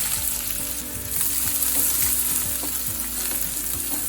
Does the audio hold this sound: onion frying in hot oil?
yes